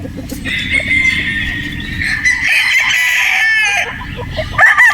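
Gamefowl stag roosters crowing loudly and close by, with overlapping crows and clucking in a short burst, and a fresh crow starting at the end.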